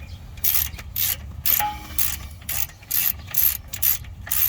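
A hand ratchet clicks in rhythmic bursts, about eight or nine strokes, tightening bolts on the brakes of a 1994–2002 Dodge Ram pickup, close and clear with no talking.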